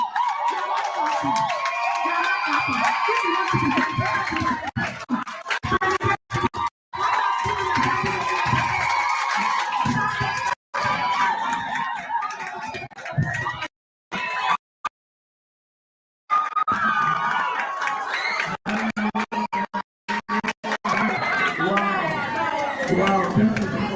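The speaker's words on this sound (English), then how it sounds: "There's a round of applause for you." An audience at a motivational event breaks into applause and cheering, a loud crowd roar with clapping that carries on around a speaker's voice and drops out briefly before building again.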